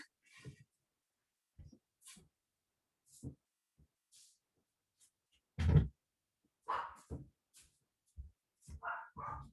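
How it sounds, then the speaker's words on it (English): A Chihuahua barks in short, sharp bursts scattered through a quiet indoor room, with a louder cluster of yips near the middle and several more toward the end, fairly close by. "so you don't have to listen to my Chihuahua bark"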